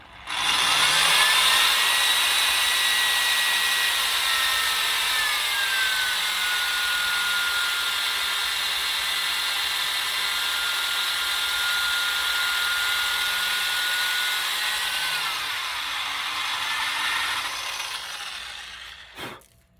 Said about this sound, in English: Now that you have a hole drilled into the shank